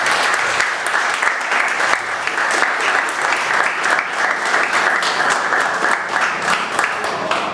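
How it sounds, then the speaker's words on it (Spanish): Audience applause at a year-end masterclass, a full, even roar of many hands clapping that holds steady and fairly loud for the whole stretch, with no talk rising above it. "pido un aplauso para esos dos"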